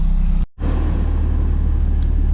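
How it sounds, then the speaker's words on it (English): A Toyota MR2 engine, recently flooded, runs loud and steady with a deep rumble. A brief cutout is followed by a sustained rev holding close and constant. "We've just revved the car"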